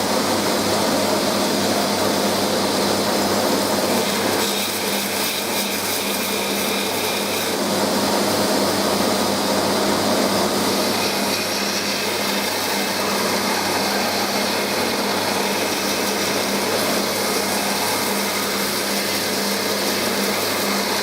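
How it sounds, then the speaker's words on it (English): A power grinder works a steel knife blank down to a 45-degree bevel, making a steady, loud, high-pitched whine with grinding hiss that holds for about twenty seconds without a break. "Left two scribe lines there, which I'm going to grind down to at 45-degree angle to give me a datum point"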